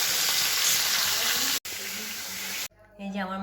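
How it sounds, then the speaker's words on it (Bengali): Fish sizzle steadily in hot oil in a pan, a loud, dense frying hiss that breaks briefly, then fades into a quieter clatter with a voice at the end. "মাছগুলো ভাজা বসিয়ে দিয়েছি।"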